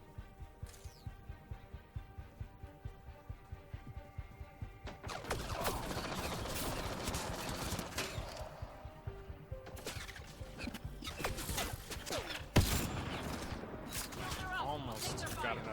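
Turret gunfire in the video game Mass Effect Andromeda rattles in rapid bursts, with a steady stream of shots and a sharp loud crack near the end, mixed with busy game effects and a voice talking over it.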